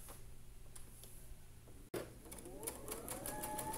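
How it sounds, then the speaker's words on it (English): A sewing machine stitches a quilt row along a marked line, with a soft ticking run at first, a brief pause, then a steadier, louder stitching rhythm close by. "I'm going to go ahead and sew on that marked line."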